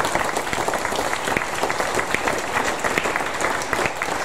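A church congregation applauding together, dense steady clapping from many hands in a large hall, sustained throughout with little else heard.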